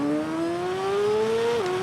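Racing motorbike in the TT Isle of Man 2 video game, a steady rising engine whine under braking that drops suddenly near the end, loud and close.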